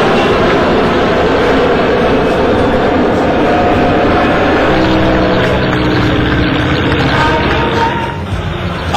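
Indian Air Force fighter jets, including Sukhoi and Mirage aircraft, performing aerobatics at an Air Force Day airbase display, a loud continuous jet roar that holds steady and eases slightly near the end.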